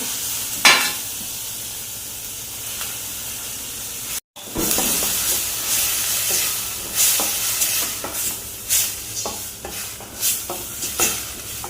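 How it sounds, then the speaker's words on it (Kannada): Onions sizzle steadily in a pan as masala is stirred through them, with a constant frying hiss punctuated by scraping strokes of the spoon and a brief break partway. "ಈರುಳ್ಳಿ ಫ್ರೈ ಆಗ್ತಾ ಬಂತು, ಕಲರ್ ಚೇಂಜ್ ಆಗಿದೆ. ಈಗ ಮಸಾಲೆ ಮಿಕ್ಸ್ ಮಾಡ್ತೇನೆ."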